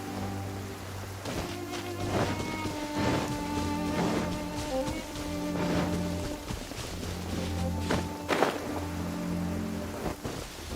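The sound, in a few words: rain falling in video game Genshin Impact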